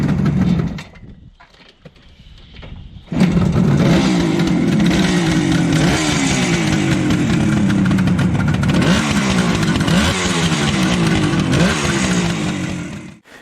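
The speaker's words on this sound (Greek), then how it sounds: "Πρόκειται για μια μοτοσικλέτα με 3 κυλίνδρους εν σειρά, δίχρονη, η οποία τροφοδοτείται από 3 μικούνια 28." A Kawasaki inline three-cylinder two-stroke motorcycle fed by three 28 mm carburettors runs close by, starting after a quiet moment and then holding a loud, steady buzzing roar with a few rising revs.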